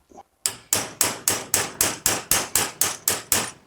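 Hammer striking to knock a rivet out of a worn wiper transmission, about a dozen sharp, evenly spaced metallic blows in quick rhythm, each ringing briefly and decaying before the next, close and loud after a short quiet start.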